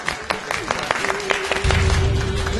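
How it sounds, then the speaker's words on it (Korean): Audience applause and cheering close out a Kim Hyun Joong interview, with claps rising to a fuller, denser burst midway, heard close and lively over a steady hum. "모두들 박수와 환호로 오늘의 시간 마치도록 하겠습니다"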